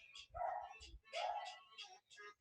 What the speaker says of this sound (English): Got our neighbor's dogs going crazy.